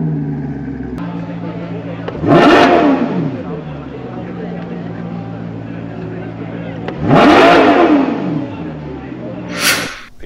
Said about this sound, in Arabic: الألفا روميو الديسكو فولانتي كمان حتسمعوا صوت محرك جدا جميل عليها